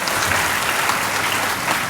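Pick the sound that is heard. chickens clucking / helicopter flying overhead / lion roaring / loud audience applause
loud audience applause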